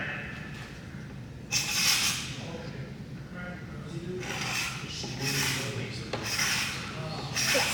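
A card scraper held in an angled holder scrapes across wood in repeated rasping strokes of about a second each, fairly close, with speech faintly present in the background.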